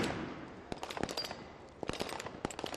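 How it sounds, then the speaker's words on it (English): A National Guard sniper fires rifle shots at targets during a SWAT challenge competition, several sharp, distant cracks spaced unevenly over a quiet, faintly noisy background. "2 clean shots from the National Guard sniper"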